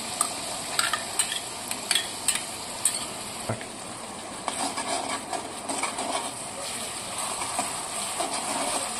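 A spoon stirs coconut and poppy seed paste into tomato, onion and green chilies sautéing in a pan for an egg masala curry, giving scraping clinks over a soft sizzle, close and moderately loud.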